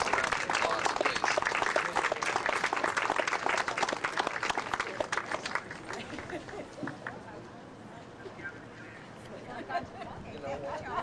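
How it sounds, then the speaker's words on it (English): A crowd applauding at a museum's 25th anniversary kickoff, with loud sustained clapping that gradually fades into murmuring chatter and scattered voices. "Let's give all of them a round of applause, please."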